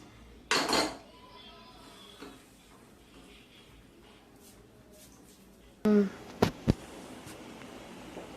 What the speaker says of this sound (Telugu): ఇలాంటి గిన్నె ఒకటి తీసుకొని మనం లోన ఆయిల్ వేసుకొని ఇలా కలుపుకోవాలండి